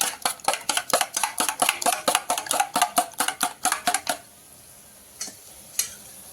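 Beaten egg poured into a hot pan with tomato for tomato egg bhurji: a rapid run of scraping, clattering kitchen sounds for about four seconds, then near quiet with two brief clicks.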